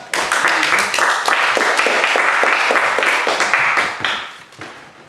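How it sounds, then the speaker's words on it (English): An audience at a speakers' club evening applauds a returning speaker, with steady, close clapping that runs for about four seconds and then thins out and fades. "So please welcome back Param to the stage. Thank you. Clap"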